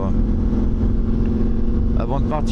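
A 1989 Yamaha 750 XTZ motorcycle engine runs steadily and loudly close by, a continuous low rumble with a slight rise in revs near the end.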